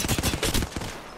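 Rapid bursts of video game gunfire crackle through a short, dense stretch, several quick shots in close succession at steady loudness.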